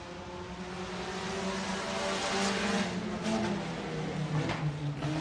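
Several Modified and Sport Compact race cars roar together at Buena Vista Raceway as the green flag drops, engines climbing steadily in pitch and volume, a dense, continuous close-up wall of exhaust noise with no talk.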